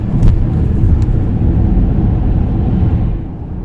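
A Ford car cruises on a motorway using BlueCruise hands-free driving, with a loud, steady low road and engine rumble from inside the cabin that eases slightly near the end, with no talking.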